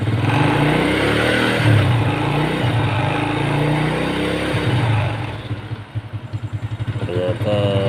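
A motorcycle engine idles just after a new carburetor has been fitted, making a loud, close, rough putter. A faster pulsing rhythm comes in toward the end.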